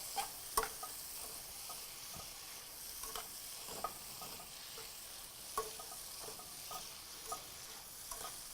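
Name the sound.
vegetables sautéing in a pan with salt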